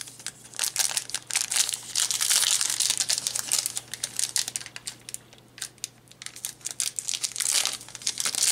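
Close crinkling and tearing of a Yu-Gi-Oh Secrets of Eternity foil card pack being ripped open, with bursts of crisp rustling that swell, dip briefly and return.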